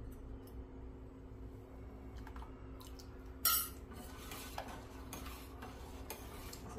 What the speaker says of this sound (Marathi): तर आता आपण एक एक चमचा टाकत असं हलवत राहायचं।